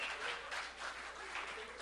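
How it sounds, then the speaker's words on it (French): Brief burst of crowd applause, steady clapping from an audience, fairly faint and distant. "Allez, applaudissez, mes amis."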